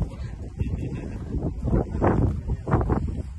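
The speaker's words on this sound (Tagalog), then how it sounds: "Malamig sa mukha yung simoy ng hangin." Gusty wind rumbling against the microphone in continuous low buffeting waves, with voices faintly in the mix.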